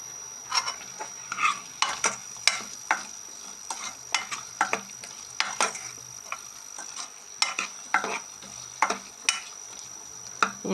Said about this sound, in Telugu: దీని తర్వాత ఏం వేసినానంటే ఇది బంగాళదుంపలు కూడా మామిడికాయ.